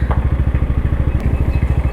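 A motorcycle engine thumps in a fast, regular pulsing beat close by, a steady low chugging that continues for the whole two seconds with no talk over it.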